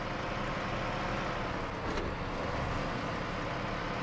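A heavy recovery truck driving in the video game SnowRunner, with a steady, continuous engine rumble and road noise that stays loud and even throughout, no talking over it.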